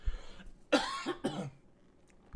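Two sharp coughs in quick succession, close and fairly loud, followed by quiet.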